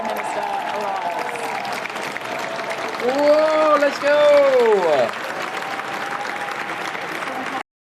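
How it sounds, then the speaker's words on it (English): A crowd applauds steadily at a political gathering as a new Prime Minister arrives, a continuous wash of clapping with a nearby voice talking and whooping over it. "You can hear the applause, and that applause is about to get even louder as the new Prime Minister arrives."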